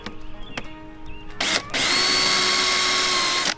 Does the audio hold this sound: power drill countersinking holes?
yes